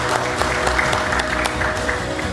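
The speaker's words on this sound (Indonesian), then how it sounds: "Kasih tepuk tangan dulu dong" Brisk applause from a parliamentary committee room after a new anti-corruption commission chair is announced, dense clapping with some murmuring, steady and fairly loud across the short stretch.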